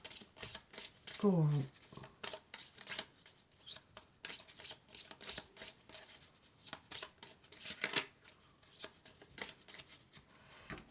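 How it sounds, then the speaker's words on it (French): Tarot cards shuffled by hand close up, repeated soft riffling and slapping in bursts, with someone talking softly over them. "Donc je vais commencer par mélanger déjà"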